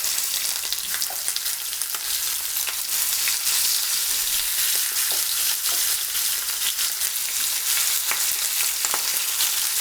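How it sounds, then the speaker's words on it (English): Steady, loud sizzling of beef short ribs searing in a hot pan, a continuous crackling hiss with scattered pops. "you can hear that sizzle"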